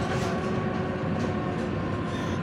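Metro train passing at a station in Sofia, a steady loud rumbling roar with rail hum and faint squeal, continuous and close throughout.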